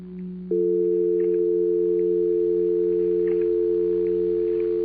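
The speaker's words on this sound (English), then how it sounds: "The soft hum of the dial tone that was always there." A steady, loud telephone dial tone hums continuously after a brief click, with faint background noises beneath it.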